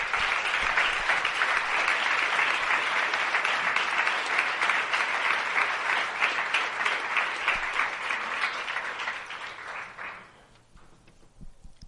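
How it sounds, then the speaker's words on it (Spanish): A church congregation breaks into sustained, loud applause during an evening service, a thick wash of clapping that holds steady for about ten seconds before tapering off. "Fuerte aplauso al Señor en esta noche."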